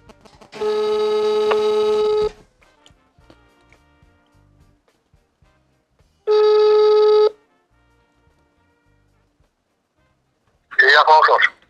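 A telephone call being placed to a seller advertising chicken manure: long steady ringback tones with a pause between them, followed at the end by a brief burst that sounds like a voice on the line.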